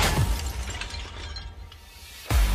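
Glass shatters under the built-in breaker of a survival shovel, a sharp burst followed by a brief tinkling decay and a second thud at the end, with no voices.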